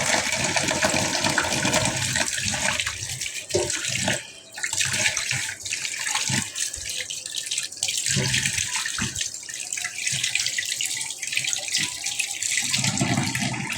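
Fish bought already cut from the market is rinsed under a running tap. The water streams steadily and fairly loudly from start to end, with a brief dip in the middle.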